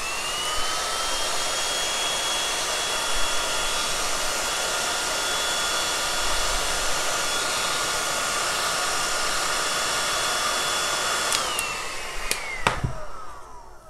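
A heat gun blows hot air onto trim covering to soften it, a loud, steady whirring hiss close by for about eleven seconds before it winds down and clicks off.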